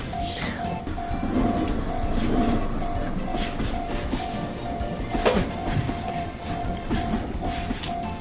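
A toy train runs on a wooden track, giving a steady close rolling rumble with light clattering clicks over track joints, with faint background sounds throughout.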